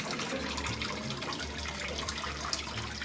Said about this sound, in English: The water drains out through the small holes because it's a mosquito net.